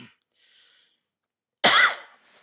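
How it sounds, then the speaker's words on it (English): A single loud, harsh smoker's cough bursts out near the end, preceded by faint breathing and near silence, with no talking. "Smoker's cough."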